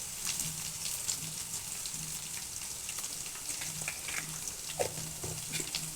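Ginger garlic paste frying in a pan for an aloo baingan meal maker curry, a steady close crackling sizzle with occasional light stirring scrapes and small taps, no voices.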